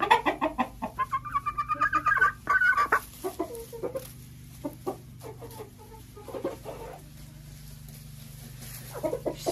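Laying hens at a summer dacha clucking in a rhythmic run of close, loud cackles, then quieter scattered clucks and rustling.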